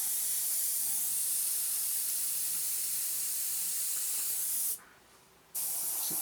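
A loud, continuous airbrush hiss, spraying a 1/48 scale Eduard SE5a model, runs steadily, breaks off briefly for under a second, then resumes at full strength.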